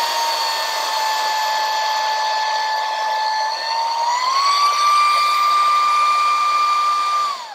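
Steady high-pitched motorized whine of a handheld electric air duster running on its high setting, loud and close, the pitch rising slightly partway through and holding before cutting off, with no talking.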